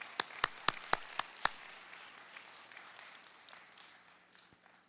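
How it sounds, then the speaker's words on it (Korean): At a church service welcoming a pastor, six sharp, close claps ring out in quick succession, then scattered, faint applause from the congregation fades away. "큰 박수로 할렐루야와 함께 맞아주시기 바랍니다"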